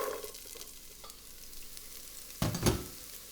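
Onion fries in hot olive oil in a pot with a soft, steady sizzle, then a louder burst of crackling and stirring near the end as it is moved around.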